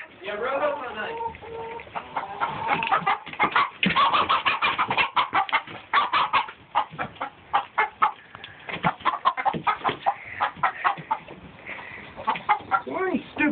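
Chickens cluck and a rooster crows amid people talking nearby, with bird calls recurring throughout.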